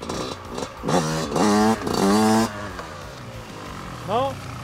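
A motocross motorcycle arrives at an outdoor riding event, its engine revving loud and close in several rising and falling bursts, then a final quick rev, while voices talk over it.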